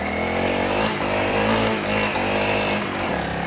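A Honda CRF300L motorcycle engine revs hard and steadily at close range while the rear wheel spins in shallow ruts, a continuous loud droning roar with rising and falling pitch.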